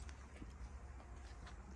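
Hooves of a young chestnut horse clip-clop in a few spaced, soft thuds at moderate distance over a steady low background rumble.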